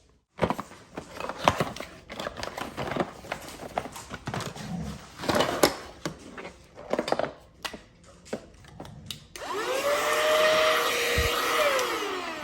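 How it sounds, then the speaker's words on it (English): Clattering and handling noises, then a small cordless handheld vacuum motor whirs up near the end with a rising whine, close by. "this little vacuum came with several different attachments"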